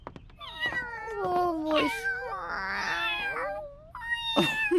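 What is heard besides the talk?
cats meowing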